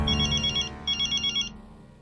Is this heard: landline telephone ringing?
yes